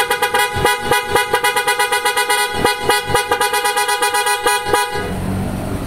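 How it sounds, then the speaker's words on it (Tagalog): A PIAA aftermarket car horn fitted to a Toyota Vios sounds in a rapid series of loud, bright, close honks, pulsing in quick rhythmic bursts before cutting off. "Ito naman yung auto style horn siya"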